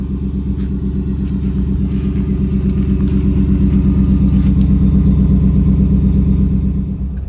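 A deep, throaty MBRP Street exhaust on a Ford F-150 rumbles up close, swelling with throttle and easing back, steady and loud with no voices.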